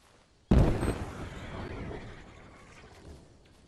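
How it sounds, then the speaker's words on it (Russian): A single sudden landmine explosion in a video game bursts out, loud and booming, then fades into a crackling, rumbling tail of fire left burning on the ground. "мина взрывается, воспламеняется и оставляет на земле огонь, который наносит урон"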